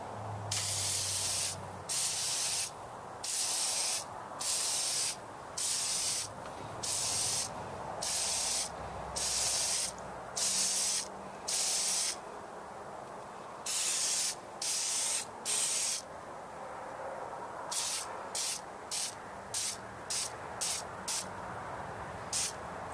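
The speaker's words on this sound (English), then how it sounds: "Basically, about 3 inches from the pleats, and just kind of spray down these lines." Repeated short hissing bursts of aerosol oil spray onto the pleats of an air filter for a P71 car, close and steady, the spurts coming in a regular rhythm then quicker toward the end.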